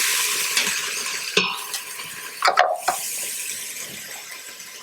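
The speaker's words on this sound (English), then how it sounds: "I'm just going to let this saute a bit" Vegetables sauté in a pot for fish stew with a low, steady sizzle, punctuated by a few clinks and scrapes of a utensil against the pot, close and without voices.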